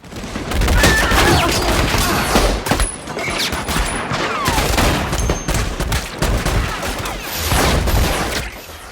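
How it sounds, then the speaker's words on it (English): Sustained gunfire from a film scene with several shooters opening up at once, a dense, loud, continuous barrage of overlapping shots and booms lasting several seconds. "Say auf Wiedersehen to your Nazi boss. And they all open fire."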